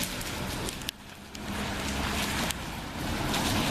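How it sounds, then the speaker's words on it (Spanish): Heavy rain pouring outside the church in Cuautepec, a dense, continuous hiss of water striking the ground and roofs, loud and steady with brief dips and surges. "Está lloviendo bastante fuerte."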